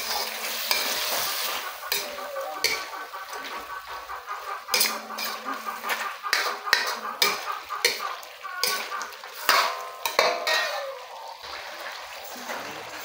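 Chicken adobo is stirred in a pan, with a utensil scraping and clacking against the metal in irregular strokes over a soft sizzle.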